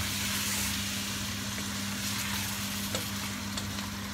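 Chicken curry sizzles and fries in a pan after stock is poured in, a steady close hiss of bubbling liquid with soft scraping stirs and an occasional light clink of the utensil, no voices.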